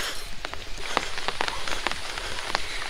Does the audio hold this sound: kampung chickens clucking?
no